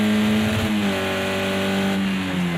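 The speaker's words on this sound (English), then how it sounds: "That may well just be where my camera thinks he's hit the rev limiter" A race car engine in Project CARS 2 screams at steady high revs, holding a sustained buzzing drone against the rev limiter with a brief dip in pitch, loud and continuous.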